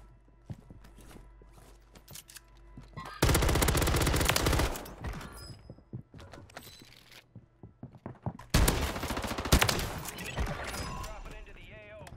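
Rapid automatic gunfire in a multiplayer video game shooter, two loud sustained bursts separated by quieter stretches of footsteps and clicks, with a player talking over it.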